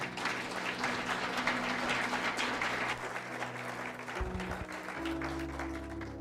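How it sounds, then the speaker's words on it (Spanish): Church congregation applauding together, a full burst of clapping that swells and then thins toward the end as sustained instrumental tones come in beneath it. "Ahora únelas y dale un fuerte aplauso al Señor."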